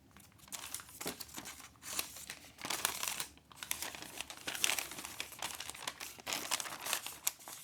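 A small folded paper instruction leaflet for Pluggerz Uni-Fit sleep earplugs being unfolded across many panels, giving soft, continuous crinkling and rustling with irregular louder crackles, close up and quiet, with no voices.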